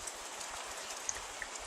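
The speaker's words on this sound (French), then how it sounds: "Le bruit monotone de la pluie qui tombe sur les feuilles des arbres." Steady, monotonous rain falling on tree leaves, a dense even patter with a few sharper drops standing out, continuous and fairly quiet with no voices.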